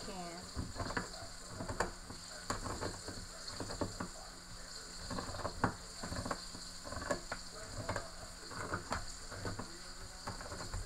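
Porgy fish frying in a pan gives a steady close sizzle, broken by occasional scrapes and clinks of a utensil, with no talking.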